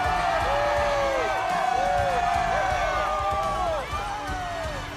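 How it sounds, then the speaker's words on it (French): Animated crowd at a Beyblade battle arena cheering and applauding for a competitor, a loud, continuous roar of voices throughout, with whistling tones sweeping over it. "On applaudit à tout rompre Delta Zakuro!"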